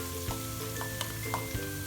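Chopped onion sizzles steadily in a hot pan for cauliflower fried rice, a constant close frying hiss with a few small pops and clicks from utensils.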